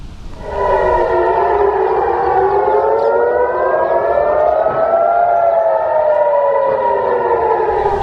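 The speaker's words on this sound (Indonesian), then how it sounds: "Sirena meraung saat Israel dan Iran saling serang" Air raid sirens wail across Jerusalem during an Israel–Iran exchange of strikes, several overlapping rising and falling tones sounding loud and continuous over a low background rumble, with no talk.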